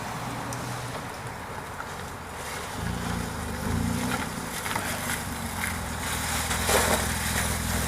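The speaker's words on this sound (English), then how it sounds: "And here comes our Jeep." A Jeep Wrangler JK drives up, its low engine rumble swelling midway and holding as it arrives, partly buried under blustery wind noise on the microphone.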